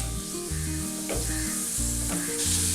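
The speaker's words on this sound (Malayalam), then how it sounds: "എണ്ണ ചൂടായതിന് ശേഷം ഇതിലേക്ക് എടുത്തു വച്ചിരിക്കുന്ന ഇഞ്ചി, ചെറിയുള്ളി, ചേർത്തതിന് ശേഷം ഇതൊന്ന് മൂപ്പിക്കണം" Ginger and small onions frying in hot oil for a Kerala pink perch fish curry, a close steady sizzle running under music throughout.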